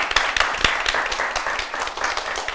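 Studio audience applause on a television music show, dense steady clapping from many hands lasting a few seconds, close and fairly loud with no talking over it.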